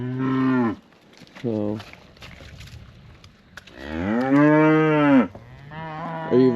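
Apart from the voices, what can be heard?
heifer cow mooing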